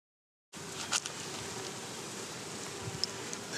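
Honey bees hum steadily around an open hive at a 3rd grade beekeeping session, a dense continuous buzz starting abruptly and holding even, with a few individual bees passing close.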